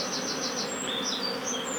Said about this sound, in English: There's so many bees in the box.